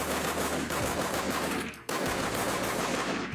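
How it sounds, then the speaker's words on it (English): Futuristic laser blaster shots fire in a fast continuous barrage, loud and dense, with a brief break in the middle before the rapid volleys resume. "if I wanted to do something like a laser blaster gun shooting, since Axel has some sort of like futuristic"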